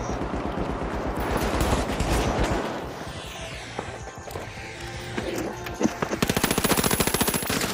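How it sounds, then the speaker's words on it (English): A turret in the shooter game The Finals fires rapid automatic bursts, dense and loud at first, fading into scattered impacts, then a steady fast chatter of shots returns near the end. "Damn, this turret's annoying."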